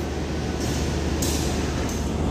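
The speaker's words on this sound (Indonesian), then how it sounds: "ini kereta api Mutiara Timur dengan rangkaian kelas ekonomi New Generation modifikasi dan eksekutif" Mutiara Timur train with economy New Generation and executive carriages rumbling past nearby in a continuous, dense roar with rhythmic clatter.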